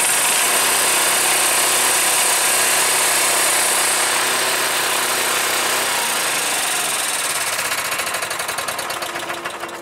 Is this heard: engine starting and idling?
yes